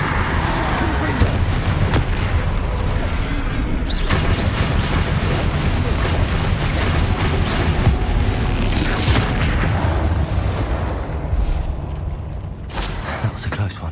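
Repeated Confringo spell explosions in Hogwarts Legacy, dense continuous booming and rumbling blasts packed close together throughout, a heavy chaotic fight with shouted spell names over the noise.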